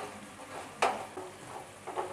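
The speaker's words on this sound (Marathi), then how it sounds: "आता हा मसाला आहे ना तो आपल्याला काय करायचं आहे, घट्ट होईपर्यंत आपल्याला फ्राय करून घ्यायचा आहे." Masala frying in a pan until thick, a close soft sizzle broken by a sharp spoon scrape and a few lighter stirring knocks.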